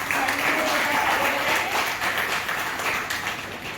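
An audience at a community gathering claps to welcome a guest, a steady, loud wash of applause that continues throughout, with some voices mixed in.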